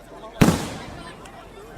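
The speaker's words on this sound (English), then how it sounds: "Perfect time to shoot a nigga when the fireworks are going off." A single loud firework bang hits sharply and decays into a rumbling tail, followed by a fainter pop shortly after, with people talking in the background.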